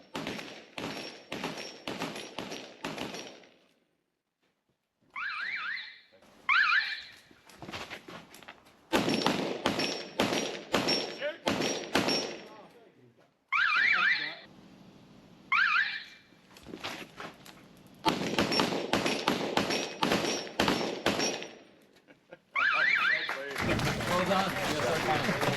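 Shotguns fire at clay targets during a shoot-off: runs of sharp, booming shots in rapid succession, heard from close by, separated by short pauses and crowd noise.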